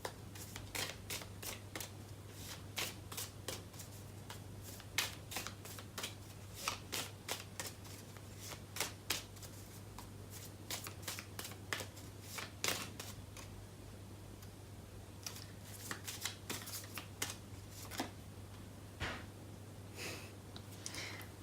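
Tarot cards are shuffled quietly and close up in a long run of crisp riffling slaps and flicks at an irregular rhythm over a low steady hum, with occasional soft breaths.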